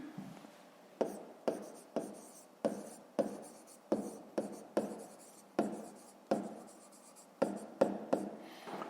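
Pen or pencil writing on paper during a fifth-grade maths exercise, a close, quiet series of short scratchy strokes in an uneven rhythm, roughly fifteen marks over nine seconds, with no talk.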